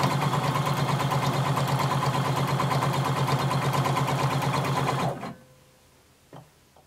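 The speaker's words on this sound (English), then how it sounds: "I'm going to sew my hem all the way around" Sewing machine stitching a hem all the way around, a steady loud rapid run of about five seconds that stops abruptly, followed by quiet with a small knock.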